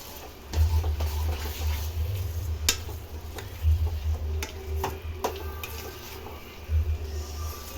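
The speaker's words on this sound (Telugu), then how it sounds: "బాగా మిక్స్ చేసుకోండి." A spoon stirs bread halwa with dry fruits in a pan, making scattered light clicks and scrapes against the metal over a steady low hum from the stove area.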